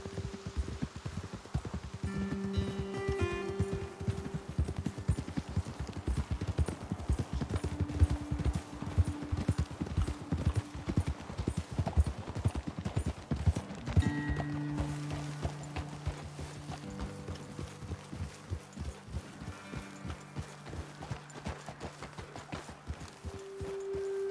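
Horse hooves clip-clop at a steady riding pace through a Red Dead Redemption 2 game scene, close and continuous for the whole stretch, with a low musical score underneath.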